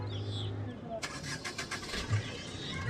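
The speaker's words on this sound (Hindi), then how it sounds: "वो गाड़ी स्टार्ट कर रही हैं।" Car engine cranking and catching, a sudden burst of starter and engine noise after a quiet moment, followed by a rough idle with faint background voices.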